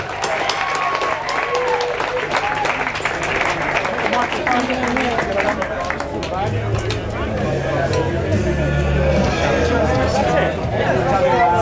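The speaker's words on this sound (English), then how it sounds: "Give me a big round of applause, please, for Spinal Tap." An audience gives sustained applause for Spinal Tap at a Classic Rock awards nominations event, with dense clapping and crowd chatter, and voices talking over it.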